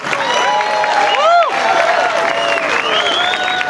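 A large outdoor crowd at a tax day rally on Boston Common claps loudly and continuously, with cheers and whistles rising over the applause.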